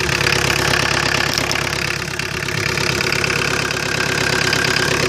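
A Mazda RF 2.0 diesel engine fitted in a 1985 Ford Escort runs steadily at idle, loud and close, with a rough, rhythmic knocking clatter and no voices.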